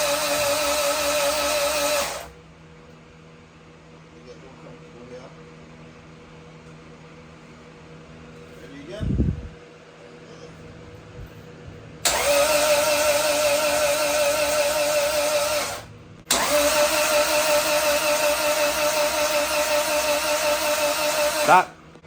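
A built turbo Honda engine cranking on the starter, two loud steady whirring bursts with a short gap between them after a quieter stretch, close by and never catching.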